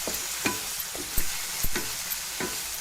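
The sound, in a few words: onion-tomato masala frying in oil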